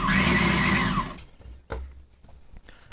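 A sewing machine runs in a fast, loud whirring burst as it stitches pieces of a pa-neck lined blouse together, then stops abruptly, followed by faint handling clicks and fabric movement.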